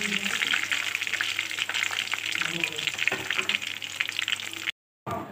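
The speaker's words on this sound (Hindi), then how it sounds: "सभी चिकन को हम ऐसे ही फ्राई कर लेते हैं" Chicken sesame pakoda pieces frying in hot oil give a steady, dense sizzle that runs loud and close for most of the stretch, then cuts out briefly near the end before the sizzle resumes.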